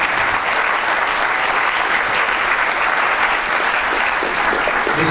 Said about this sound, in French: Des applaudissements, s'il vous plaît, pour ce magnifique plateau.